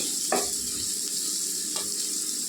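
Onions fry in a pan for spinach curry with a steady close sizzle, and a spoon stirs with two brief scraping strokes; no one speaks.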